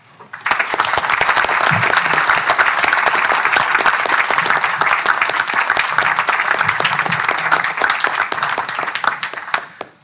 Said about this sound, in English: Ladies and gentlemen, one more time, huge applause.